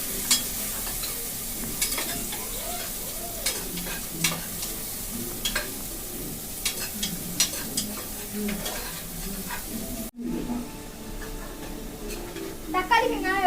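Tomato and onion being stirred and sautéed in a pan: steady sizzling with repeated scraping and clinking strokes of a spoon against the pan, close by, with faint voices in the background.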